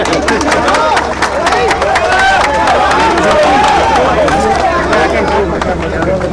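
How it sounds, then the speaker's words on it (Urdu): A large political rally crowd claps loudly and continuously, dense applause mixed with crowd babble and cheering throughout. "یہ تالی لگائیں ذرا زور سے"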